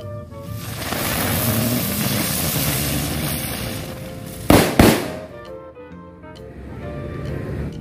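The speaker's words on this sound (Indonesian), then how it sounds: "Ini yang selanjutnya kita nyalain petasan ground blown flower." Ground blown flower firecracker spins on the ground with a loud, sustained hissing whirr, then bursts into two sharp cracks and fades, recorded outdoors up close.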